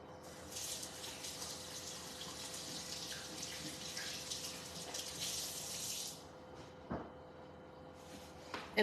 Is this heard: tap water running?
yes